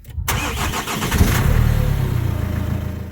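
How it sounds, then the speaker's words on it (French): After an oil change, the starter motor cranks a Renault Master van's engine: a brief silence, then a loud, close whirring crank that settles into a sustained low mechanical drone. "petit test, on va mettre un coup de démarreur pour que l'huile se mette en place un peu partout."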